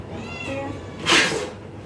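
Hungry cat meowing before feeding, a single drawn-out close meow followed by a brief breathy sound, with faint background noise.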